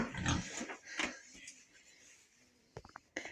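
Low snorting grunts from pigs near the start, mixed with a voice talking, then scattered rustles and clatter.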